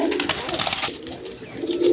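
Lively pigeons give a low, throaty coo nearby amid rustling and scratchy movement, with the cooing swelling again toward the end and no one speaking.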